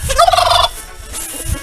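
Turkey gobbling close by, one quick rattling burst of gobbles lasting about half a second, followed by quieter outdoor background.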